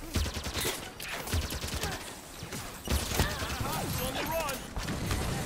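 Rapid gunfire in the video game Halo 5, with bursts of shots and a pistol in the mix, ringing out in quick clusters over busy game effects and scattered chatter.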